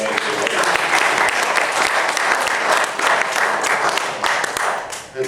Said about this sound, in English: how about another round of applause for Jason for the ground.